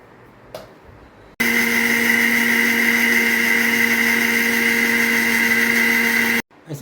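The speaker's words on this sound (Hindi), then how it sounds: "ये हमने पूरा मिक्सर में डाला है। अभी इसका पेस्ट बनाएंगे।" A kitchen mixer grinder blends tamarind masala paste, starting abruptly after a short quiet moment and holding a loud, steady high-pitched motor whir for about five seconds before cutting off.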